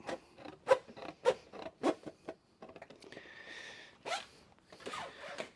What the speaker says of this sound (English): We can cut it with our snips. So here we go. Let's cut that throat out.